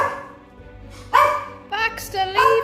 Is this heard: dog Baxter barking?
yes